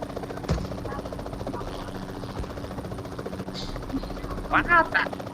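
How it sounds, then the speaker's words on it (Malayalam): A helicopter's rotor drones steadily throughout in the mobile game BGMI, a constant buzzing whir, while voices talk over it and a few brief sharper sounds pop up near the end. "ஹெலிகாப்டர் இருக்கு பாரு"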